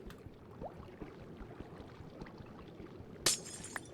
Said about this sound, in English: And then we're going to break the glass